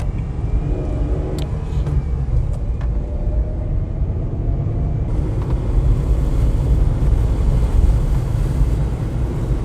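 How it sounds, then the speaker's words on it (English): Wind picking up outdoors, a strong low rumble and buffeting roar against the microphone that grows fuller and louder partway through, steady and close with no talking. "Yes, the wind is picking up."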